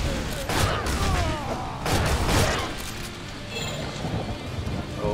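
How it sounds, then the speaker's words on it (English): Shotgun blasts in the side-scrolling action game Shank 2, set in a jungle: two loud, close booming shots about a second and a half apart, each trailing into rattling debris, with quieter scattered impacts afterward. "To blast those guys with a shotgun."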